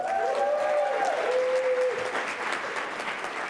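Audience applause at a Columbus Metropolitan Club luncheon, a steady wash of clapping from a crowd that tapers slightly toward the end, with faint tonal sounds near the start.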